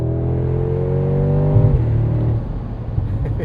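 The 577 hp biturbo V8 of a 2025 Mercedes-AMG G63 roars loud and close, its pitch climbing under hard acceleration before a sudden drop at a shift and then a steady, deep drone.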